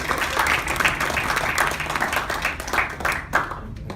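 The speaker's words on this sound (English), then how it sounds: "Give a big hand clap to Manik." Audience applause at an insurance presentation, steady dense clapping from a room of people that continues throughout and thins slightly near the end.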